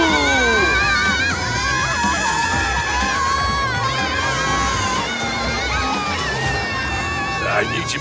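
A crowd of cartoon children shouts and screams together in an animated scene, a loud, dense, continuous din of overlapping high voices.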